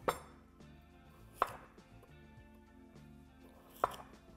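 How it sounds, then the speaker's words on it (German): Three sharp knife chops through kohlrabi on a cutting board, spaced irregularly, close and crisp over a quiet kitchen background. "Dann halbiere ich die Kohlrabi und schneide diese Hälfte zweimal durch, also in 3 Stücke."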